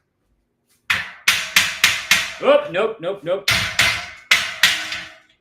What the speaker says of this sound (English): Hammer time!